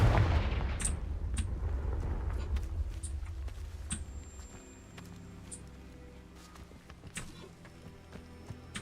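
Confringo blasting spell from Hogwarts Legacy, a heavy booming blast at the start followed by a fading rumble and scattered sharp cracks and pops across the clip.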